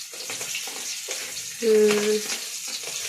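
Chili and garlic fry in a pan in a home kitchen, a close steady sizzle with light stirring scrapes, and a brief tonal hum or voice-like tone rises midway over the hiss.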